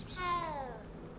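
A cat in the Hogwarts Legacy video game gives one short meow that slides downward. It is faint and heard through steady game background noise, with nobody talking over it.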